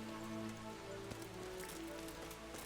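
Rain in the video game Kingdom Come: Deliverance falls as a steady, soft patter of drops on surfaces, quiet and continuous, with a faint background tone and no voices.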